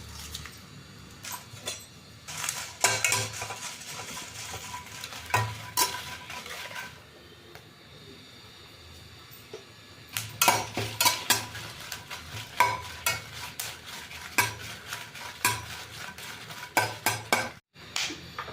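Byadagi chillies being stirred and dry-roasted in a pan, with repeated scraping and rattling strokes of a metal utensil in rhythmic bursts over a light sizzle, loud and close, a brief pause midway.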